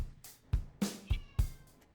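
A cat meows indoors, with several short calls of varying pitch spaced about every half second, fairly close and clear, with no talking over them.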